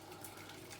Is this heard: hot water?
yes